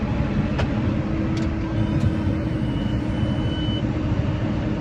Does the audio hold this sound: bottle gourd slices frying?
no